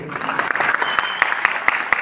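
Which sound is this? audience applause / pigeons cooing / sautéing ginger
audience applause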